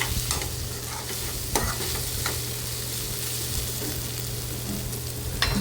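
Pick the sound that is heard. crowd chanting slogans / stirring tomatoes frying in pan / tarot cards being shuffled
stirring tomatoes frying in pan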